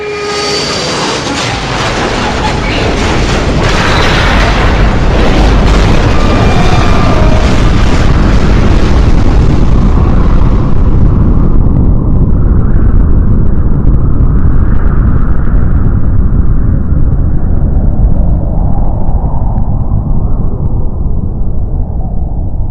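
A huge bomb blast engulfing an island in the NES Godzilla game, a loud, dense roar that rumbles continuously for over twenty seconds, with bright crackle early on before settling into a deep sustained rumble.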